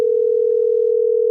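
A steady electronic tone from an unanswered telephone call sounds alone and unbroken at a constant pitch.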